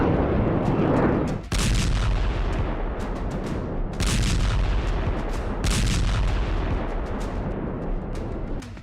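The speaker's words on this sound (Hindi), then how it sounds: "इसी बम गोलों से बेरूत में नॉन स्टॉप धमाके हो रहे हैं।" Bombs and shells explode in Beirut in a run of sharp, booming blasts spaced a second or two apart, with heavy rumbling low end between hits.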